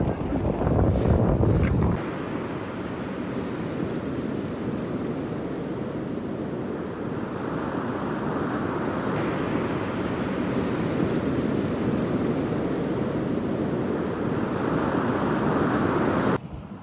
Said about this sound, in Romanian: cam bate vântul